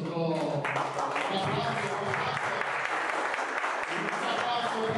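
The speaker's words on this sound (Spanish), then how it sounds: "Un aplauso a ustedes mismos." Applause fills a room at a student social forum, a continuous loud patter of hands with some talking and a brief tone at the start.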